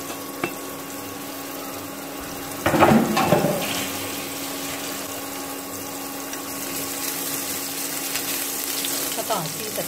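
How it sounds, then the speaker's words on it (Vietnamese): Cooking oil sizzles in a pan ready for stir-frying, a steady bright hiss with a louder burst of crackling around the third second as something hits the hot oil, then continuous sizzle to the end. "bây giờ mình sẽ tiến hành đi xào nhé"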